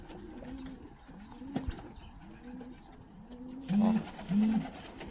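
Racing pigeons coo in a breeding loft: soft, repeated low coos keep a steady rhythm, and two louder, closer coos come near the end.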